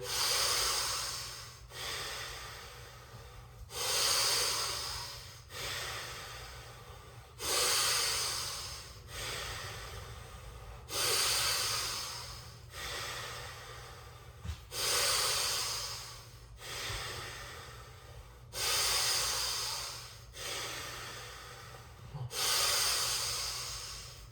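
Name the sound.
deep breathing in and out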